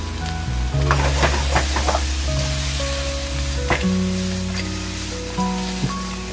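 Chicken sizzles in a pan of sambal mercon spice paste, a steady frying hiss with occasional stirring scrapes and clatters close by.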